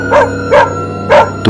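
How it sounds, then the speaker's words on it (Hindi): Dogs barking in three loud, well-spaced bursts with a fourth just starting, close and clear over a faint steady background hum, with no talking. "तो कभी कुत्तों के भौंकने की आवाज"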